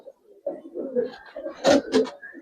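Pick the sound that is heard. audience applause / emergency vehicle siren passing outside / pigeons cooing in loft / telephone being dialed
pigeons cooing in loft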